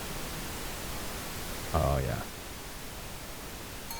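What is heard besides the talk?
pink noise in video game Tape Recovery Simulator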